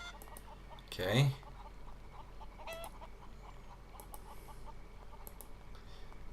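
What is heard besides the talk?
chickens clucking in the video game Haunted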